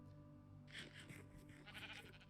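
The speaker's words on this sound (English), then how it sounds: "Die, sheep. I need your food." A sheep in Minecraft bleats twice in quick succession, faint and mid-distance, over a quiet steady background hum.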